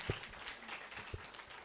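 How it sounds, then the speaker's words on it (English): A conference audience breaks into brief, scattered applause, with loose claps rising and fading over a low room murmur and no steady rhythm. "So I was hoping we could give a round of applause to them"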